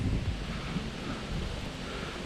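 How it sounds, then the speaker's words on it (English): Steady wind buffeting a microphone outdoors at the Skinner's Bluff lookout on the Bruce Peninsula, a continuous low rumble and broadband rush with no voices. "A bit windy"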